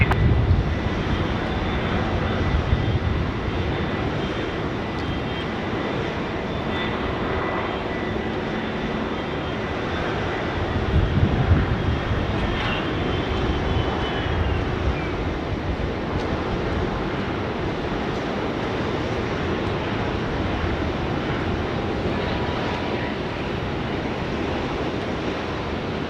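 Airliners at Sydney Airport: a steady, broad jet engine roar holds throughout, rising slightly midway, with a faint whine gliding down, fairly distant and with no talk.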